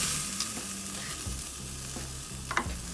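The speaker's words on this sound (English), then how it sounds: "So let's get this steak on and give it some fire." T-bone steak sizzling over fire on a Weber kettle grill, a constant close hiss with a couple of sharp crackles, under a low steady hum, no talk.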